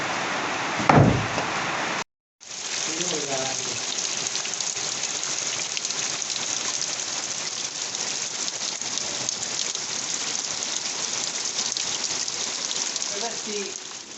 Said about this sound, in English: the rain is absolutely kicking down